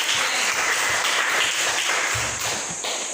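A primary school class claps for a group of pupils, brisk overlapping handclaps forming a steady rattle throughout, with a few low thumps like desk taps near the end.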